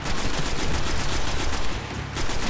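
Trench gun shotgun fire in the video game Destiny, loud dense rapid blasts overlapping into a continuous barrage of gunfire with no talking.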